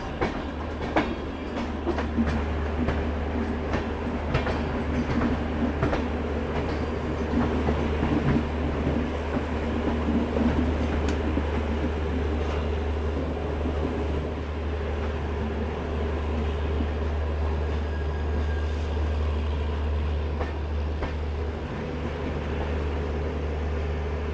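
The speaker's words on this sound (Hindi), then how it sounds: "प्रयागराज हमसफर एक्सप्रेस।" Prayagraj Humsafar Express running on rails, a loud steady rumble with rhythmic clickety-clack over the track joints, heard from close by for the whole stretch without a break.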